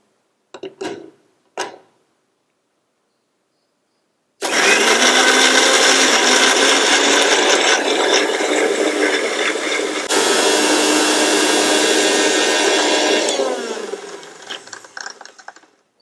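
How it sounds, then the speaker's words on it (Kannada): An electric mixer grinder runs loudly, grinding raw onion without water: a couple of sharp clicks, a pause, then a continuous harsh whirring roar for about nine seconds that cuts out and rattles down. "ಇದನ್ನ ಈಗ ನಾವು ಮಿಕ್ಸಿ ಮಾಡ್ಕೊಳ್ಳೋಣ"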